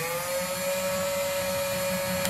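A drill fitted with a wood or metal bit turns slowly in a steady, close whirring hum with a constant tone for a couple of seconds.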